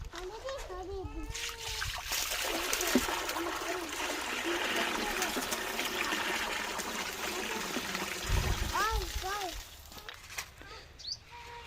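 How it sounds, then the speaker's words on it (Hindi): Water splashes and trickles into a container just scrubbed of moss, a steady pouring rush lasting several seconds with a voice and other talk faintly in the background. "अब इसमें डाल देते हैं पानी।"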